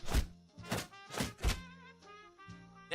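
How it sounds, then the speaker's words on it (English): Kick subscription notification sound effect of kicks and punches: several sharp, loud impact thuds in quick rhythm with ringing tonal tails, heard alone without talk. "That sound is supposed to be the sound of kicks and punches."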